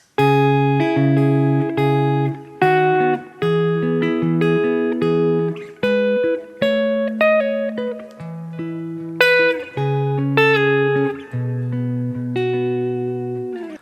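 Guitar picking pattern from a song, played as a clear sequence of ringing single notes and short chords, each plucked note sustaining and overlapping, close and alone.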